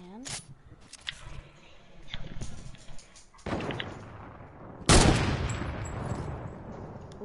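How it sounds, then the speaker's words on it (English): Video game gunfire cracks out in several sharp bursts, loudest near the end, mixed with quieter game noise and occasional talking. "why are you shooting me?"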